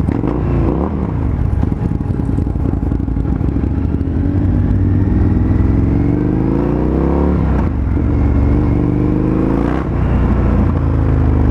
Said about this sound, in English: I've been wanting to ride this bike for a while. It sounds like a beast.